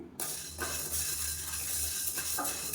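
Black urad dal roasting in a pan gives a close, steady dry rustle and gentle sizzle, with soft scraping strokes as it is stirred.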